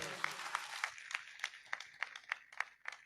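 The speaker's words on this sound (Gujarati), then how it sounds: "જોરદાર તાળી વધારે લે" Applause with cheers after a speech at a community gathering, about a dozen sharp claps spaced roughly evenly, fading as the clapping thins.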